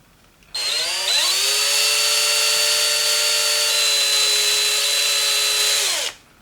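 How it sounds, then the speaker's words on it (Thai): Power drill boring into a small wooden wedge for a DIY action-figure finger build, a steady high whine that spins up, holds evenly for about five seconds and then cuts off, loud and close with no talk. "หลังจากนั้นเราก็เอาสว่านเจาะเข้าไปเลย"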